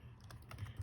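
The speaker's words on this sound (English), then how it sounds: "Now I get my little blue box I can type in there." A few quiet keystrokes tap on a computer keyboard, brief and faint over a low background hum, with no voices.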